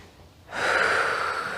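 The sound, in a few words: breathing in through the nose during fit ball exercise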